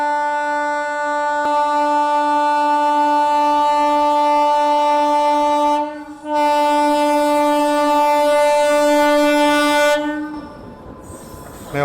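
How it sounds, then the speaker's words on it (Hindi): The Sarnath Express pulls into Sarnath station in heavy fog, its loud sustained horn droning close by for many seconds, breaking off briefly and then resuming before fading away under the rumble of the train. "सामने से सारनाथ एक्सप्रेस जो है वो आ रही है"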